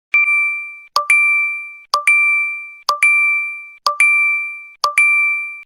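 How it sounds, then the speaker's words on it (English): Six bright, identical phone notification dings ring out at a steady pace about one second apart, each a crisp chime with a clean tone and a short decay, loud and close with silence between them. "I'm sure you wake up to a bunch of notifications like emails, texts, DMs, maybe even phone calls"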